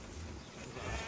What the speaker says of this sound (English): At last, the sheep were unloaded.